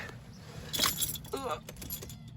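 Keys jangling and turning in the ignition of a Vauxhall Vivaro van, a brief close metallic rattle and clinks in a quiet cab, followed by a short faint chime.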